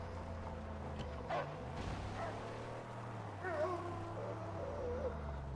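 A dog in the Mad Max video game gives a few short yips and whimpering barks, faint over a low engine drone and game ambience.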